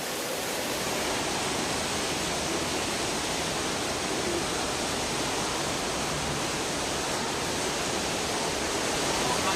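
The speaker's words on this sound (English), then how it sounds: "around you the rain is switched on again and creates this curtain of water around you" Artificial rain pours down inside the Rain Room installation at the Barbican Centre in London, a dense, even hiss of falling water that continues unbroken and close by.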